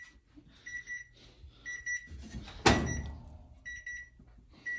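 A kitchen oven with a pizza inside beeps in short repeated bursts of electronic tones, three clusters spread over a few seconds, with a brief clatter in the middle and quiet room noise underneath.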